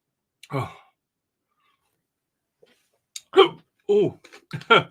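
A person hiccups in a brief burst amid sighs and breathy gasps, the sharp vocal catches close and fairly loud, separated by short silences.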